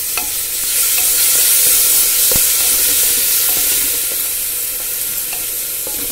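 Onion, chilli and turmeric masala with grated tomato frying in a pan for khichdi, a loud, continuous bright sizzle with faint stirring scrapes and no voices.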